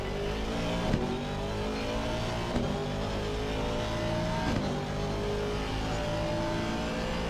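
A GT3 race car engine at Monza in a racing game, heard from the cockpit as a loud, continuous high-revving drone, with the pitch climbing through the gears and brief breaks at each shift.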